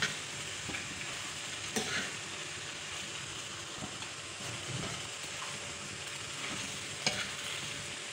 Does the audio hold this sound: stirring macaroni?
yes